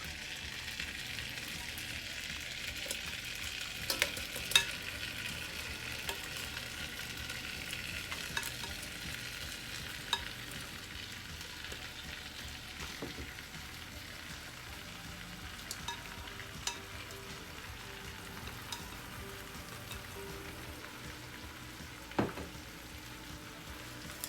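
Shrimp sizzling in a pan for Jamaican pepper shrimp, a soft steady frying hiss with occasional faint stirring taps over a long stretch, no talking.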